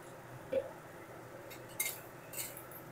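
A few light metallic clinks and scrapes of a spatula stirring ridge gourd with mustard paste in a home cooking pan, spaced apart over a quiet kitchen background, with no talking.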